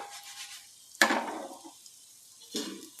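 Oil poured into a pan on the stove while cooking a Marathi-style sprouted-legume curry, giving a sharp splash and sizzle at one second, a hiss that fades, then a second softer sizzle burst near the end, with no talking.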